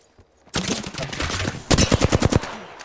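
Rapid automatic gunfire from an Apex Legends match, a sustained burst of close shots followed by a sharper, louder string of separate cracks, with no talking.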